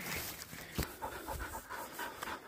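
Hunting dogs pant rapidly and heavily close by after a wild pig hunt in New Zealand, a rhythmic breathy huffing throughout with outdoor noise around it.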